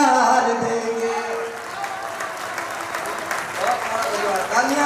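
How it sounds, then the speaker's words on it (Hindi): Audience clapping mixed with a voice talking or chanting over it, steady crowd noise for a few seconds. "तालियां थोड़ी कम है आपकी"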